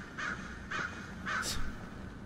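A crow in a horror video game gives three harsh caws in steady succession, fairly close and clear against a quiet, hissy background.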